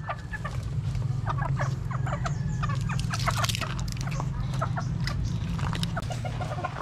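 Albanese pullets cluck steadily in a coop, with many overlapping short calls over a constant low hum, close and fairly loud throughout.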